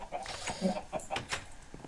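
Chicken in a farming video game clucks in a short series of quick, faint bursts, with a voice speaking over it.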